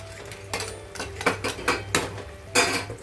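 Rohu fish curry with cauliflower is stirred in a metal pot, with four or five bursts of clattering scrapes and utensil knocks over a low steady hum.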